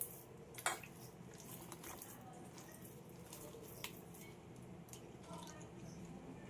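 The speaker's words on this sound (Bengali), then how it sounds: "আমি দেখুন বারে বারে অল্প অল্পই জল দিয়ে মেখে নিচ্ছি" Ripe mango and flour batter is mixed and squeezed by hand as small splashes of water are added. The wet squishing and dripping is soft and close, with a few sharper drips over a steady background.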